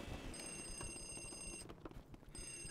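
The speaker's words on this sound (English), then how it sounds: "Where is that ringing sound coming from?" An electronic telephone ring in the Luigi's Mansion video game (modded) trills in short bursts, faint, with a brief pause before it starts again.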